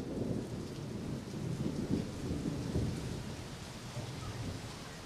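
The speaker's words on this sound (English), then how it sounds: "it's pretty rainy, pretty stormy right here. We'll keep out here. You can hear thunder" Thunder rolls through a heavy rainstorm, low rumbling swells over a steady hiss of rain falling on surfaces, moderately distant and continuous, with no talking.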